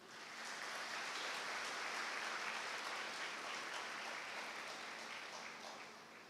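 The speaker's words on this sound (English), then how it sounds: "So let's have a clap for you." Sustained applause from a seated audience at a college induction ceremony for a new student batch, a dense, steady clapping that swells in, holds evenly for several seconds and tapers slightly at the end, with no talk over it.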